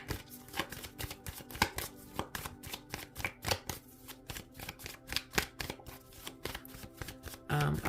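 Tarot cards are shuffled by hand in quick, rapid riffling bursts, close and crisp, a steady stream of papery flutters and slaps lasting several seconds with no speech over it.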